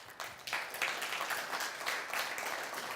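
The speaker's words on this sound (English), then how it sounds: "a round of applause to Mr. Theo" A crowd at a corporate leadership camp claps, faint and distant, rising after a brief lull into a steady patter of many hands.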